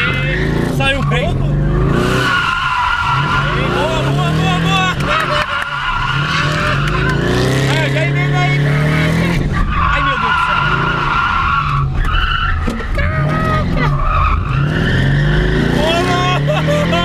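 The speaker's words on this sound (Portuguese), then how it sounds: "Acho que o Camaro começou a aprender a fazer drift" An automatic Chevrolet Camaro drifts hard, with loud, sustained tire squeal over a revving engine that rises and falls. Excited voices talk throughout.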